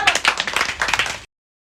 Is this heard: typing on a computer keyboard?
no